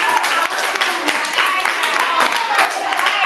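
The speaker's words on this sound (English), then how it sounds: "Let's clap for her." An audience at a youth leadership camp breaks into steady, dense clapping for a speaker, a continuous wash of many hands that stays loud throughout.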